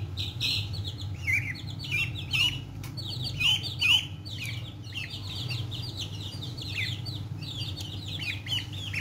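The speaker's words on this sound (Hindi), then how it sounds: "ले जी माशाल्लाह तीनों डक्स आ गई हैं और चूजे आ गए हैं बाहर" Ducks and chicks come outside in a backyard poultry setting, giving repeated high chirps and peeping calls at a moderate distance over a low steady background hum, with no one speaking.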